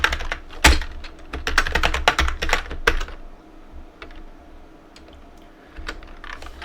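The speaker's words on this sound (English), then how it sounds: "Then type the long file name." A file name is typed on a computer keyboard in a run of quick, close clicking keystrokes, followed by a few sparser taps after a short lull.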